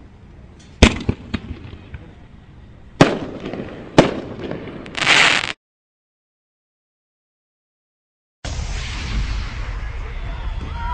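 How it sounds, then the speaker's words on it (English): Merlin artillery firework shells launch with sharp loud thumps at intervals, followed by a crackling burst, a stretch of silence, then a distant rumbling wash of explosions outdoors. "How about them fireworks? Pretty cool, huh?"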